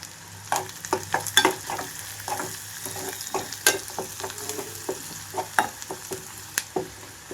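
Sliced onions and turmeric frying in a pan for a bitter gourd fry: a continuous sizzle broken by many irregular scrapes and taps of a spatula stirring, close and moderately loud.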